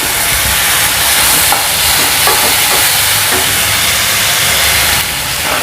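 Onions, curry leaves and tomato fry in a pan for peanut kuzhambu, giving a steady, fairly loud sizzle and hiss throughout with faint stirring sounds and no talk.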